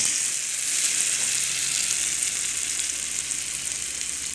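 Loroco tortitas fry in a pan with a steady, close hiss of sizzling oil that holds evenly throughout, with no voices over it.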